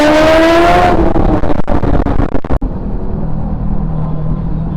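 Motorcycles, a Kawasaki Ninja among them, racing on a road: a loud, close, sustained high engine whine with a rising tone that drops into a rough, steady roar as the bikes rush past, with no voices.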